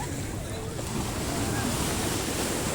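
Surf washes steadily onto Jumeirah Beach in Dubai, a constant loud roar of waves mixed with wind buffeting the microphone, with no distinct breaks in the noise.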